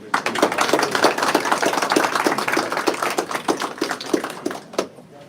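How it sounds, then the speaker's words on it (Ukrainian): Audience at an international rehabilitation forum backed by the Ukrainian Red Cross, applauding with dense, sustained clapping at close range. The sound swells early, holds, then thins out and fades near the end. "Оплески, друзі."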